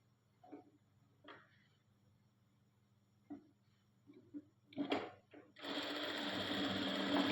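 A sewing machine stitches pieces of white fabric together, starting with a few faint clicks and short bursts, then running continuously and loudly at close range through the final stretch.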